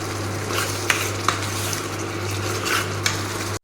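Pasta masala sauce sizzles steadily in a pan while a utensil stirs it, with a few sharp scrapes and clinks against the metal standing out over the constant frying hiss.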